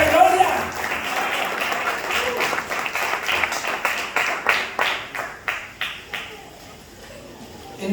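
Congregation at a Spanish-language church service claps in a sustained burst that thins into scattered, separate claps before fading out.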